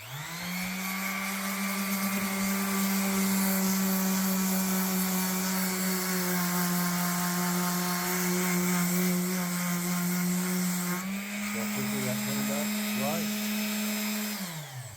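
An orbital sander on red oak hums at a steady pitch with a gritty scratching layer on top, close by, then its tone briefly shifts near the end.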